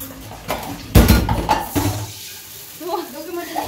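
Pots and dishes clatter as they are set down for washing in a home kitchen, a cluster of loud clanks and knocks early on, then quieter scraping with a faint voice near the end.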